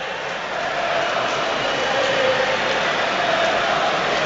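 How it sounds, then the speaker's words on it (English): Steady, dense roar of a football crowd inside a Premier League stadium during Chelsea versus Wolverhampton Wanderers, with a faint sustained chant drifting through the broad wash of noise. "Just having a listen to the crowd there, because thought I heard a chant"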